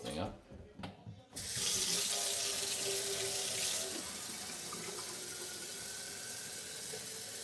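Water gushing from a tap into a container, starting after a few faint knocks, a loud hissing stream that drops to a softer, steady trickle partway through as the vessel fills.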